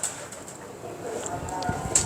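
Pigeons coo softly at a rooftop pigeon loft, low murmuring calls rising toward the end with a brief flutter, over steady outdoor background noise and no clear speech.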